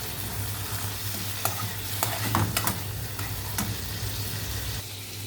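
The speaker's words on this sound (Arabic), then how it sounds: "نجيب بقى اللحمه بتاعتنا نحطها في قلب الطشه الجميله دي." Meat dropped into a hot garlic tasha for spinach sizzles loudly and evenly, with a few sharp spatter and scrape clicks over a constant frying hiss, and no speech.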